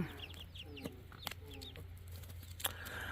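Backyard chickens, likely Wyandottes, cluck in short, soft, scattered calls at moderate distance over a low steady background hum, with an occasional brief clatter.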